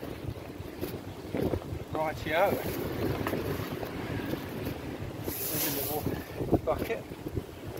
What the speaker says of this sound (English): Wind is strong now.